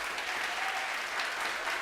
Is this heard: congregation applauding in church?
yes